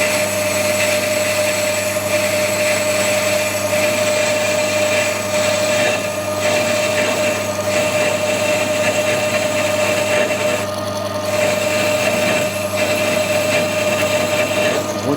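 A bench grinder runs loud and continuous as it grinds the end of an old parting blade holder in a workshop, giving a steady high whine with small dips in level.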